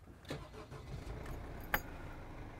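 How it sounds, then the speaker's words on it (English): Mercedes Sprinter motorhome with a 163 bhp engine and automatic transmission, its engine turning over and running with a low, steady rumble from close by, with a sharp click or knock partway through. "And just listen to the sound the engine makes."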